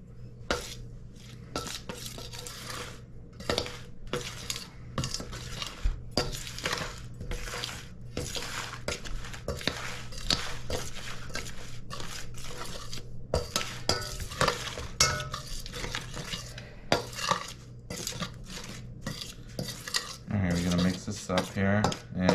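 Spices including allspice being stirred into a Guyanese Christmas black cake mixture, with steady scraping and soft clinks of the spoon against the bowl running throughout, while voices talk intermittently.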